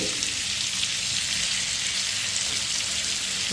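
Fish sizzles in hot oil in a frying pan, a steady, dense crackling hiss that runs without pause from start to finish, close and fairly loud.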